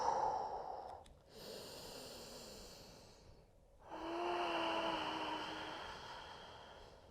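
Slow, deep breathing during a yoga standing forward fold, with a long airy exhale, a pause, then another drawn-out breath, all close and soft in a quiet room.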